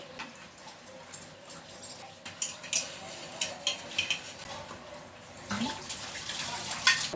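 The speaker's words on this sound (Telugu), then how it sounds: "టీ తాగిన గిన్నెలో పిల్లల లంచ్ బాక్స్లో అయితే తోమేస్తున్నా" Tea pots, dishes and metal lunch boxes clink and scrape irregularly as they are scrubbed, with water splashing in between the clatters.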